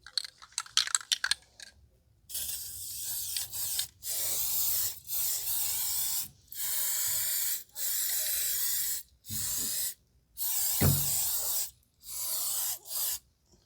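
Aerosol can spraying rust proofing onto the steel frame of a home-built fiberglass utility trailer, with several clicks and rattles first, then about nine hissing bursts of a second or so each, separated by short silences.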